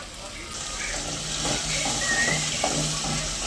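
Ginger-garlic paste fries in hot oil for a fish curry, a steady broadband sizzle running throughout at moderate level, with faint background voices underneath.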